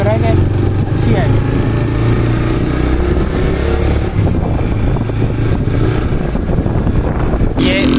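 Motorcycle engine running, a loud close steady rumble with slight revving throughout, a person talking over it at times.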